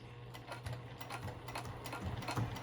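A sewing machine slowly top-stitches the edge of a vinyl zipper pouch, giving a quiet, rapid stitching rattle with a steady rhythm throughout.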